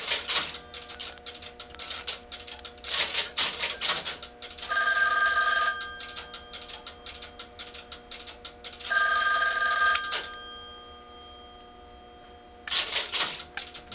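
An OKI AC125A crossbar PBX rings extension 60: two long bursts of electromechanical bell ringing with pauses between, amid clicking relay chatter, recorded close with no talking.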